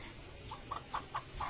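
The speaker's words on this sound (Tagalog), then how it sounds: "May manok pa." At animal feeding time, a chicken gives a few short, soft clucks in a loose rhythm over quiet outdoor background noise.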